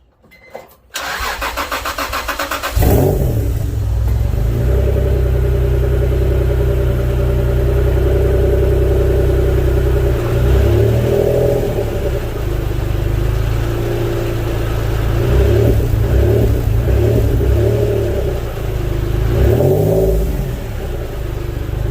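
A 2019 Ram truck engine cranks and catches after a brief click, then settles into a loud, close idle that rises and dips a few times as it runs.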